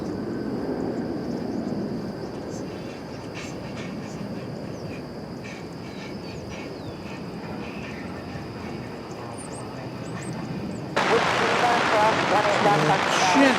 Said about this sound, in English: just about to land is the flight 2852 from Jacksonville, an Airbus A321